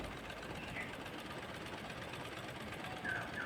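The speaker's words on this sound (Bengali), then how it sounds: "এবার চাপ সেলাই বসিয়ে দিব।" Domestic sewing machine running steadily while top-stitching the gathered frill of a baby frock, a continuous, fairly quiet mechanical whir with no pauses.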